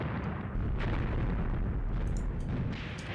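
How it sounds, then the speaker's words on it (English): Artillery salvo explosions roll through a battle in the Graviteam Tactics combat game, heard as a dense, continuous low rumble of booms with a few sharper cracks layered on top. "this salvo, it's actually straddling both of those guns"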